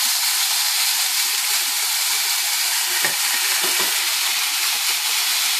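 Salmon sears in a hot pan without oil, giving a loud, continuous sizzle and hiss that fills the whole stretch, with a few brief low clunks midway as the fish is shifted.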